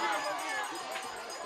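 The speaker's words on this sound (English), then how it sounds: "Listen to the crowd." A high school football crowd at a Lorain versus Garfield Heights game roars steadily in a dense, continuous wash of cheering and shouting voices, heard from a distance with no breaks.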